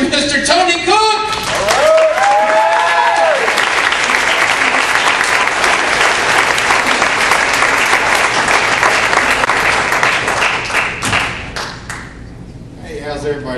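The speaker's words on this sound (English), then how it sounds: "Make some noise for Mr. Tony Cook!" Loud, sustained applause from a large stand-up comedy crowd with cheering, following a short spoken announcement introducing the comedian and fading toward the end.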